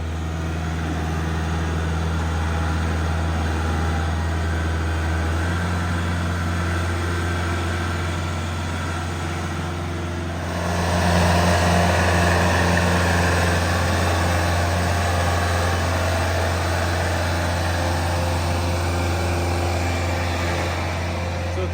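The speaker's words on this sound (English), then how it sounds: "he's moving dirt around from the high spots to the low spots" Steady low engine drone of a tractor moving dirt nearby, growing slightly louder partway through, with no talking.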